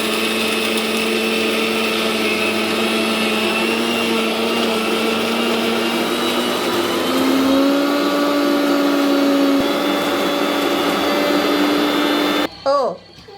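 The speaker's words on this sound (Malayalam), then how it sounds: "ഋതുവിന് മിക്സി ഓണാക്കുന്നത് ഭയങ്കര പേടിയായിരുന്നു." An electric mixer grinder runs in a home kitchen while curry masala is made, producing a loud, steady motor whine that shifts pitch partway through and cuts off abruptly near the end.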